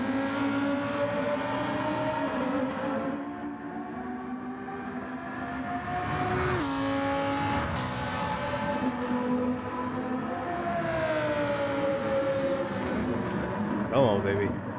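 Race car engines in Gran Turismo 7 whine and rise through the gears, with sustained revving, throttle swells and a sharp shift near the end, a voice talking over the continuous engine drone.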